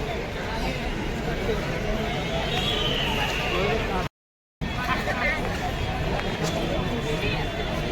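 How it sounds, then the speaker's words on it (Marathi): A dense crowd bustles at the Gateway of India in Mumbai on a busy Sunday holiday, a steady babble of many voices and footsteps near and far, with a brief cut partway through. "इधर गेट ऑफ इंडिया और इधर कितनी सारी भीड़ है चौड़ी गर्दी डायरेक्ट बघा"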